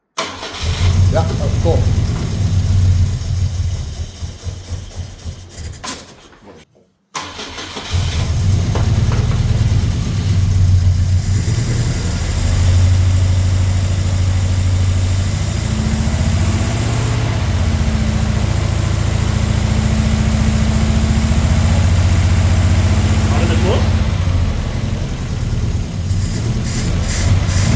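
After 27 years unused, a 1973 Volvo 140 cranks hard, cuts out briefly, then fires and settles into a loud, rough idle with occasional revs, as people talk excitedly nearby.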